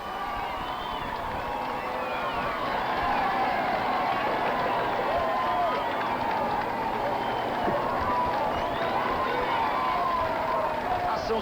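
Roadside crowd at the 1993 São Silvestre international street race in São Paulo cheering and applauding passing runners, a steady, dense roar of clapping and shouting that holds throughout, with a commentator talking over it.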